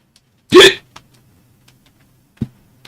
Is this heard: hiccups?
yes